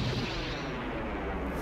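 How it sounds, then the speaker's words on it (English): Explosions from a Star Wars space battle scene built with model work, heard as a dense, continuous roar of booming blasts and rumbling detonations that fills the whole moment at steady loudness, with no voices. "Yeah, some of these explosions are really good."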